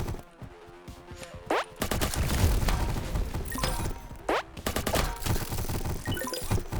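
Rapid bursts of gunfire from the player's weapon in a top-down roguelike shooter, sharp repeated shots with crashes and impacts, loud and close throughout.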